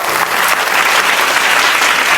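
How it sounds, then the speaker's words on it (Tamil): An audience at a motivational talk claps in sustained, dense applause, loud and even throughout with no voices over it. "அவங்களுக்கும் நல்ல கைத்தட்டல் கொடுங்க"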